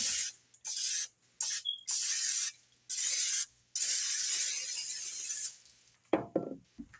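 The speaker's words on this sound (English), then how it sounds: "Spray your pan." Several short hissing bursts of cooking spray onto an 8x8 baking pan, separated by brief pauses, close up, followed by a light clatter of the pan being handled.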